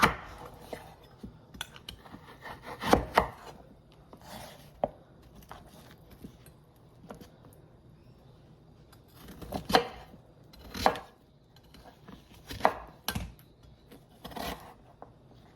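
A knife chops a pumpkin into chunks on a board, with scattered sharp cuts and thuds arriving in irregular bursts between quieter pauses.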